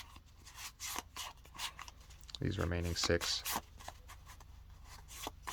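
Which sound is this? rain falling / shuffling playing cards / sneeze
shuffling playing cards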